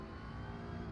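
A BMW GT3 race car engine drones loud and steady in a racing game on the 25-kilometre Nürburgring endurance layout, its sustained buzzing tone holding without pause through the moment with no voices over it.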